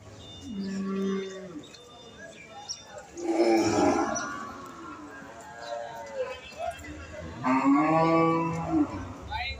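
Cattle moo loudly and repeatedly, long low calls close by, with people talking amid the bustle of a crowded cattle market.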